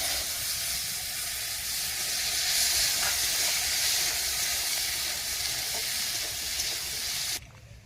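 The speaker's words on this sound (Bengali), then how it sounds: "এই তেলের মধ্যে আলু আর গাজরটা আমি ভেজে নিচ্ছি।" Potatoes and carrots frying in oil, a loud, steady, hissing sizzle close up with faint stirring clicks, ending in a sudden drop in level.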